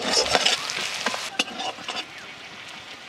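Sliced onions and slit green chillies sizzle and crackle steadily in hot oil in a pan, with a spatula stirring and scraping now and then, close and fairly loud with no talking.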